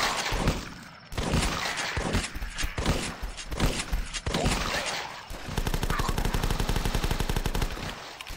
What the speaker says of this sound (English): Shotgun's very handy because it's got that spread.